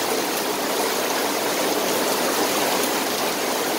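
Heavy rain from Typhoon Kristine pours down in a dense, even hiss that stays loud and unbroken for a few seconds, with no voices.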